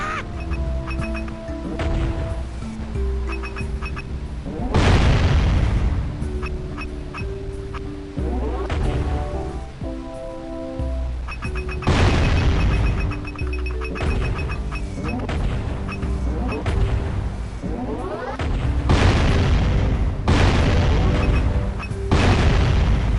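Cannon fire in the Forbidden Jungle level of the video game Jak and Daxter: The Precursor Legacy. Heavy booms repeat every few seconds, with scattered smaller bursts and game effects between them.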